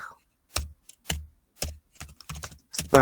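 Keystrokes clatter on a computer keyboard while a Spark shell command is entered, six separate bursts of clicks with short pauses between them, close and crisp with no talk.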